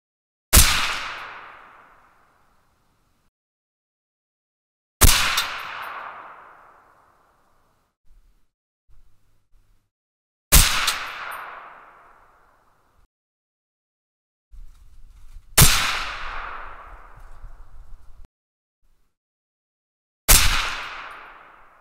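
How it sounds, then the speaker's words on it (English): Five loud rifle shots fired from a bag rest, spaced about five seconds apart, each a sharp crack with a long decaying echo. Brief faint handling noises fall between them, and no one speaks. "Okay, 10 more shots. We're back in our comfy bag setup."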